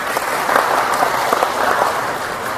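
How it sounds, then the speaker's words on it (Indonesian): A crowd at a tourism launch event for Kendal claps in a dense, steady burst of applause, loud and close, with no talk over it. "Tepuk tangan dulu untuk Kendal"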